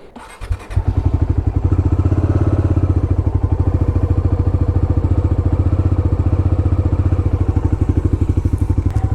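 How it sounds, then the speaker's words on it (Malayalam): Motorcycle engine starting with a short cranking stutter, then settling into a loud, close, rapid-thumping idle that runs steadily with no talk. "അതിന് മുമ്പ് ബൈക്ക് സ്റ്റാർട്ട് ചെയ്ത് വെക്കട്ടെ കുറച്ച് നേരം."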